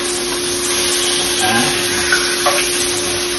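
Rib eye steak frying in a pan, giving a loud, steady, dense sizzle with a faint scrape as the meat is flipped, and no voices.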